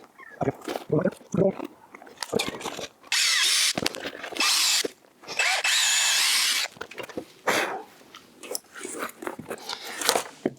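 A power drill drives screws into aluminum studs in short whirring bursts separated by pauses, with a few longer sustained runs mid-way, close by and with talk between bursts.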